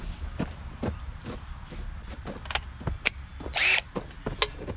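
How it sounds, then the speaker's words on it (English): A battery-powered tool, used while tearing down a Kohler Command engine, whirs in short repeated bursts, near and fairly loud, with clanks and handling noises between runs and one louder sustained burst. "I'm going to be using power tools to make this job faster"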